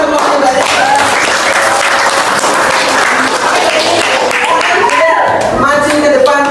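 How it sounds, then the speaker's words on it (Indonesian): Classroom applause for a student group during a lesson-study session, a dense burst of many hands clapping close by that continues steadily, with a few voices calling out over it. "Oke, kita beri tepuk tangan"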